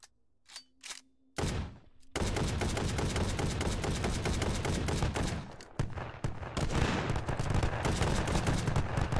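Rapid gunfire in the VR shooter H3VR, a few isolated shots followed by a long, dense stream of automatic fire, loud and close, with a short pause before it resumes.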